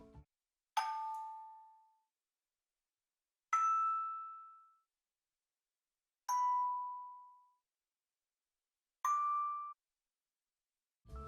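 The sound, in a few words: retro-sounding plucked synth stem, unprocessed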